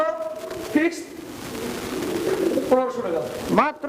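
A pigeon coos softly a few times close by, the low throaty calls mixed with a person talking.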